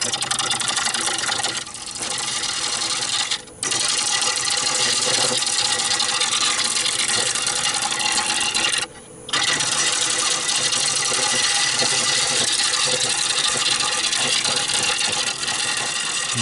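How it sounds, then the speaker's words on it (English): A wood lathe turns a bowl blank as an Ellsworth bowl gouge cuts it, giving a loud continuous whirring, hissing rush with a couple of brief dropouts, sped up, and no voices. "slowly start turning it with my Ellsworth bowl gouge"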